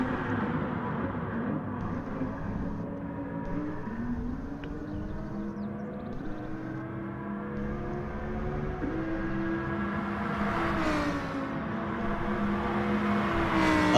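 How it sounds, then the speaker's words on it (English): Lamborghini race car engine in a racing video game at Autodromo Lago Maggiore, a steady, continuous high-revving drone with rising and falling harmonic pitch as it climbs and shifts, building louder toward the end. "Up the climb he goes again in the Lamborghini"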